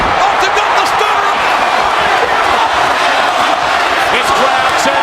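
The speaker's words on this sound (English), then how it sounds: "listen to the ovation for the American Badass" A dense, roaring arena crowd ovation for Stone Cold Steve Austin in WWE 2K24, steady and loud throughout with cheering and shouting, and commentary faintly underneath.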